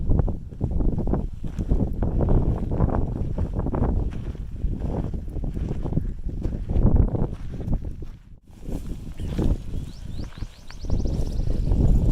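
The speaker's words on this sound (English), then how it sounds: "Very cold and windy this morning." Strong gusting wind on the Pacific Crest Trail in California buffets the microphone in heavy, uneven bursts of low rumble, briefly easing near the end before picking up again.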